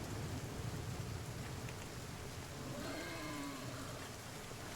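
Steady rain pours in the game The Flame in the Flood, a constant wash of falling water with no clear thunder clap, filling the whole stretch at an even level.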